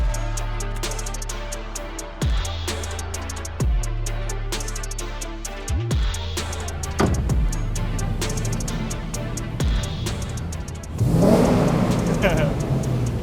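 Inside a tunnel, a C6 Corvette with the targa top off roars through repeated hard revs, its loud exhaust rising and dropping in several surging pulls that echo off the walls, ending in a bright, harsh burst.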